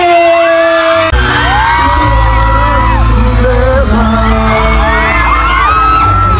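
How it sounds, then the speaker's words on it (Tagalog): A packed mall crowd at a Vista Mall Taguig event roars with cheers, shouts and clapping for actor Coco Martin, loud and continuous throughout, with piercing screams rising above a dense wash of voices. "Magpalakpakan at sigawan para sa ating primetime king, ang nag-iisang Cardo Dalisay"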